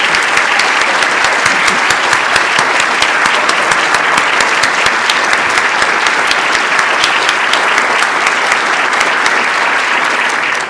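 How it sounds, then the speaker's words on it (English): A large audience at an awards ceremony claps in a long, even, continuous round of applause, loud and close, with no pauses across the whole stretch. "So can the awardees just stand up one more time for last round of applause?"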